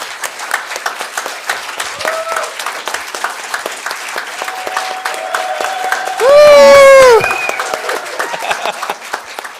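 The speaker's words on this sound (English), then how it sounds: "I just want a big round of applause for Bojan, our rock star" A conference audience in an atrium room gives Bojan a round of applause, dense clapping filling the space while a brief, loud tonal squeal cuts through midway.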